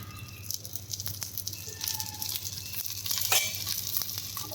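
Oil sizzles steadily in a pan as a corn snack cooks, a soft continuous crackle with occasional sharper pops and a few light clinks, fairly quiet and close.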